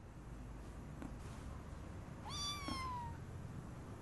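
A single clear cat meow, rising and then falling, rings out over a steady background hiss with no talking nearby.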